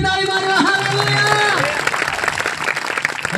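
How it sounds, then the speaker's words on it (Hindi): A congregation at a Christian preaching gathering breaks into a burst of dense clapping and applause, which rises out of a voice and lasts a couple of seconds. "जोर की ताली मारो"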